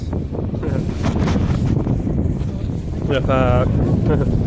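Wind blows outdoors on a cold day, a loud steady rush buffeting the microphone throughout, with a voice briefly audible near the end.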